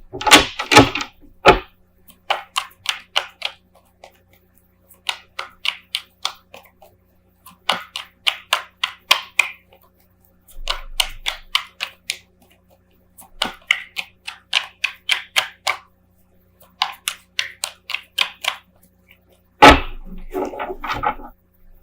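Tarot cards being gathered up and shuffled by hand, with crisp riffling bursts that repeat in a regular rhythm and short pauses between them, close and clear, with no talking.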